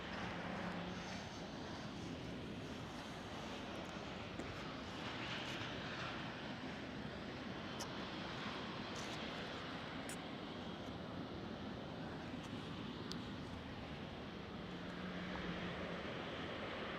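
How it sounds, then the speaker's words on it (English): An aircraft starts up on the eastern side of the cargo terminal at Amsterdam Schiphol, a faint, steady, distant engine roar that holds evenly throughout with no voices. "There is an aircraft starting up as well on the eastern side of the cargo terminal."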